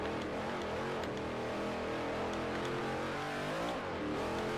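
A V8 Supercar engine in Forza Motorsport 4 holds a steady, loud in-car drone, its pitch climbing and dipping with gear changes over several seconds, with no voices.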